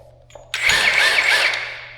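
A cordless 1-inch impact gun, used for heavy field repair on a Caterpillar D4 dozer, whirs up suddenly and runs with a loud, steady mechanical buzz for about a second and a half, close by with no talk.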